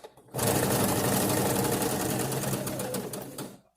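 A sewing machine stitches fabric in a steady, loud, fast mechanical whir that starts abruptly and runs continuously, with no talking.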